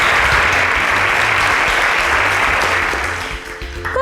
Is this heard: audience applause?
yes